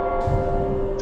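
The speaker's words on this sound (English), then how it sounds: "Just that bell chime in the background, just always there" A steady bell chime from a clock tower in the game Mandagon rings as a sustained tonal hum in the background, with a faint soft rustle and no talk.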